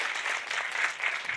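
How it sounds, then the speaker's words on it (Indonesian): Audience applause at a Shopee comedy show, a steady wash of clapping hands from a crowd, moderately loud and continuous with no talk over it. "Boleh minta tepuk tangannya dulu dong buat saya yang ada di sini"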